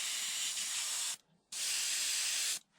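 Two bursts of aerosol spray paint onto a foam BAE Hawk EDF model jet, each a steady close hiss lasting just over a second with a short pause between, no talk.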